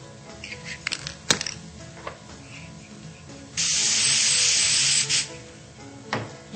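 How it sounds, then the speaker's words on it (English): Black webbing spray paint bursts in a steady hiss for about a second and a half, close by, framed by small handling clicks and rustles before and after. "let me show you how it looks in white with the black webbing spray"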